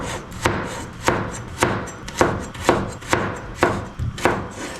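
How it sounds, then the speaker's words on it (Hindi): A knife chops carrots steadily on a board, about eight crisp, evenly spaced strikes at a brisk rhythm, close up with no talking. "और अब इसकी हमने क्यूब्स कटिंग कर लेना है।"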